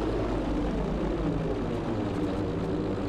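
A fighter aircraft flies in the video game Battlefield V, a loud, steady engine drone with a propeller-like buzz filling the whole stretch, close and continuous with no voices.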